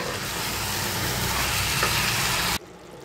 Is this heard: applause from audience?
no